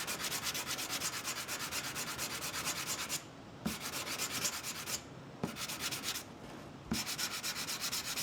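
Steady back-and-forth sanding across the seams of a wooden puzzle, a rhythmic rasping rub that pauses briefly three times before resuming, close and moderately quiet.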